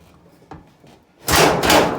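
A Kenmore dryer's front panel is pulled up off its clips during a support roller repair. A light knock comes first, then a loud, close scraping clatter of metal and plastic that lasts nearly a second.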